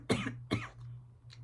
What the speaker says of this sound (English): sorry guys, I just coughed.